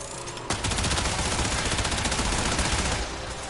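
Rapid automatic gunfire in the game Warframe, a dense loud burst of shots lasting about two and a half seconds over a steady game background.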